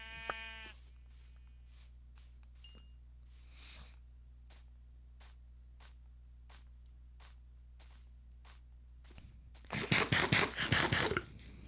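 Sheep bleat in Minecraft, a single short bleat near the start. A long run of evenly spaced clicks follows, then a loud burst of rapid scraping hits near the end.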